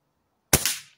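SMK Victory PR900 air pistol fires once at a target, a loud, sudden snap close by that decays quickly in near silence.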